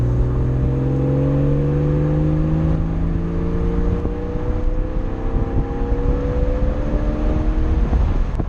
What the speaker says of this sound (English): Just that induction makes it sound like it is. It really opens up the sound of this car.